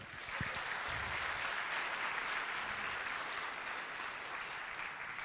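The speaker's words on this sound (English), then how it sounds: "Please give them a big applause." Applause from an audience at a corporate talk event, a steady wash of clapping lasting throughout at moderate loudness with no speech over it.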